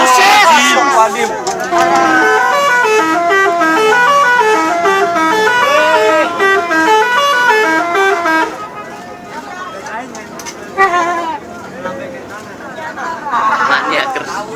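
A Scorpion Holidays bus, SCH-720, at Pasar Cibitung sounds its telolet horn in a loud, repeating melodic toot pattern lasting several seconds, then brief bursts, while an excited roadside crowd chatters and shouts nearby.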